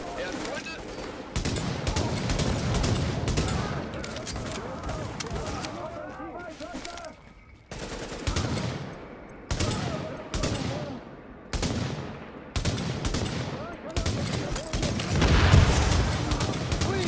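Rapid bursts of AK assault rifle gunfire in The Division, loud and close, in repeated volleys with short gaps between them, layered with other gunfire and booms of a firefight, voices talking over the shooting.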